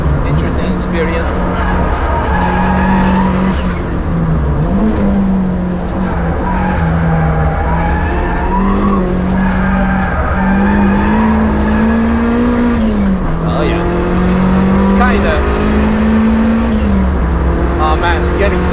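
A Toyota Starlet GT Turbo on the Nürburgring, engine loud and close from inside the cabin, revs rising and dropping repeatedly through downshifts, with occasional tyre noise and a driver talking over it.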